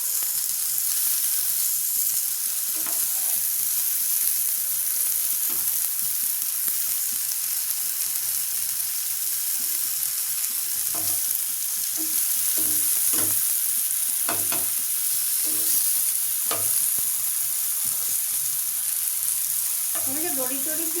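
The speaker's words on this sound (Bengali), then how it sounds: "পাতাগুলো বেশ পুড়ে পুড়ে উঠবে। পাতাগুলো পুড়ে পুড়ে উঠলে হয়ে যাবে ভালো।" Leaves frying and roasting in a pan until charred, a dense, even hiss and crackle running steadily throughout with scattered stirring scrapes, close and consistent.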